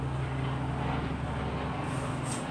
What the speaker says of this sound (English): apologies for the helicopter flying by above.